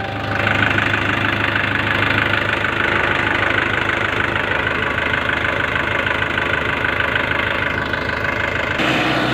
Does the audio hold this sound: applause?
no